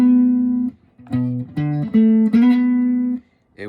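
An acoustic guitar plays the sliding part of the intro to a song: a few sustained plucked notes that glide up and down in pitch, close and clear, with no talking.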